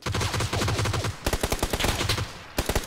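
Gunfire in the battle-royale video game PUBG Battlegrounds: loud, close bursts of rapid automatic shots, then a string of separate cracking shots with short gaps.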